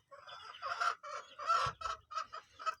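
Chicken clucking up close in a run of short, loud, throaty bursts with brief pauses between them, with no other sound around it.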